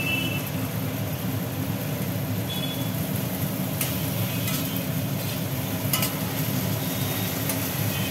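Garlic paste frying in a pan for a jackfruit and prawn dish gives a steady, dense sizzle, close and even, with a few faint clinks of stirring and no talk.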